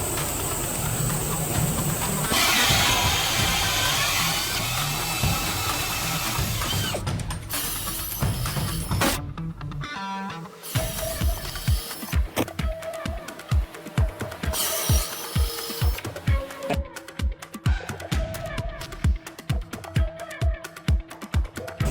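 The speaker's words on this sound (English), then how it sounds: "let's go and try and tap some 1/2 inch 13 holes in this" A FlexArm tapping machine driving a 1/2 inch 13 Cleveland tap into holes in a shop, with a steady mechanical whir and ratcheting that gives way to a run of sharp, evenly spaced clicks in a repeating rhythm, close and fairly loud.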